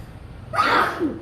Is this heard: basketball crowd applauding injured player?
no